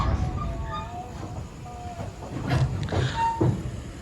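Gumarang passenger train at Tegal station in Indonesia, heard as rail noise and hiss with brief whistle-like and announcement tones, with faint voices around.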